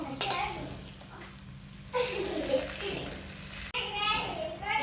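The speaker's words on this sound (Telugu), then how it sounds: "ఇప్పుడు ఆయిల్ వేసి చపాతీ వేస్తున్నాను." A chapati frying in oil on a hot pan gives a faint, steady sizzle close by, mostly buried under children's chatter and an adult voice talking throughout.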